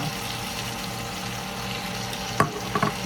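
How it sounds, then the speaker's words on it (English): Steady sizzling of cabbage frying in oil, a constant close hiss with a couple of brief clatters near the end, no voices. "As you can hear it cooking up there."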